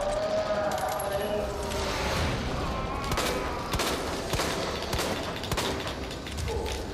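A volley of gunfire in the Resident Evil 2 Remake video game, several sharp shots spaced through a busy backdrop of game noise and mechanical clatter, with voices present underneath.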